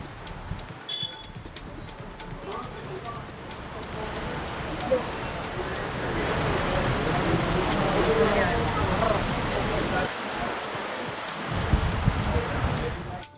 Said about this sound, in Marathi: नंदुरबारच्या सातपुडा पर्वतरांगेमध्ये मुसळधार पावसाला सुरुवात झाली आहे।